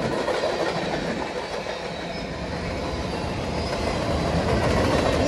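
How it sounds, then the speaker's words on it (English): A mixed freight train rolls steadily past at close range, a loud continuous rumble with rhythmic clacking of wheels over the rails. "truly a mixed freight train"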